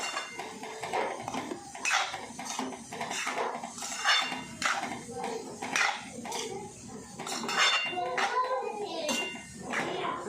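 Shredded cabbage and crushed peanuts are tossed in a pan with a spoon, producing repeated scraping and clinking strokes over a soft sizzle, fairly close, with faint voices in the background.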